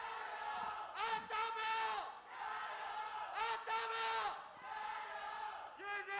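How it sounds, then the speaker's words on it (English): Crowd at a League of Legends LPL esports match chants in loud rhythmic bursts, several repeated rising shouts in unison filling the arena, with a caster's voice mixed in. "now we can stop the crowd chant"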